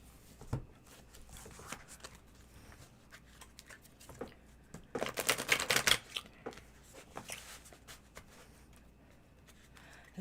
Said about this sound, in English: This deck shuffles rather nicely.